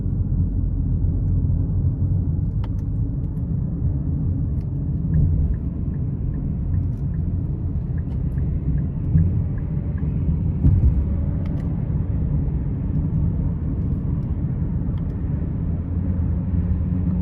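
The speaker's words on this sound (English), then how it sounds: "I'm gonna try and give it some gas getting on the interstate here." A 2024 Nissan Rogue S with a 1.5-litre turbocharged three-cylinder engine accelerates onto an interstate, a steady low engine and road rumble heard from inside the cabin throughout.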